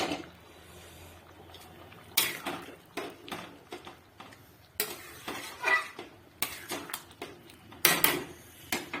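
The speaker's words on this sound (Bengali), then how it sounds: "এই যে সব রকম সবজি দিয়ে খিচুড়ি করছি" Mixed vegetable khichuri is cooked and stirred in a pot, with a metal spoon scraping and clanking against the sides in irregular bursts and sharp knocks over a quiet kitchen background, close by, with no speech.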